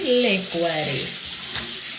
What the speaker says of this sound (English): rinsing my sink out